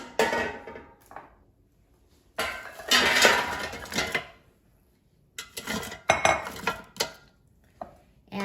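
Oiled gyoza being placed into an air fryer basket, with a few bursts of clattering and rattling from the basket and food handling, separated by quiet pauses.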